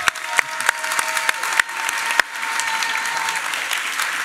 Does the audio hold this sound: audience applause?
yes